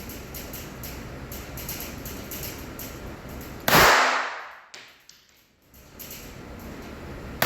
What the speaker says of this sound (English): I am going to shoot one-handed this time